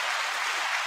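Audience applause for a hip hop commentator taking the stage, a dense, even wash of many hands clapping at steady loudness through the whole short stretch, with no voices.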